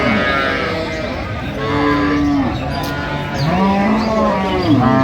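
A Sahiwal cow moos several times, close and loud, with long drawn-out calls over a murmur of background chatter at a cattle market.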